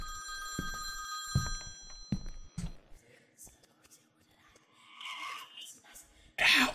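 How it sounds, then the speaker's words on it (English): Old telephone ringing in a scary video game, shrill repeated rings at the start followed by quiet game ambience, thuds and a burst of noise at the end, with hushed talk. "Oh, yeah, there's a phone. The telephone."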